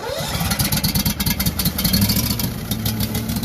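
A Billy Goat debris vacuum loader's small engine runs after a cold start, a close, loud, steady chugging throb with a fast pulse throughout.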